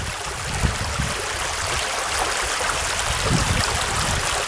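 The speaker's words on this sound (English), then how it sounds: "it's a babbling brook" A babbling brook at Tepin Brook in Aldergrove Regional Park flows in a steady, loud, dense rush of water, constant throughout with low gurgling bursts and no voices.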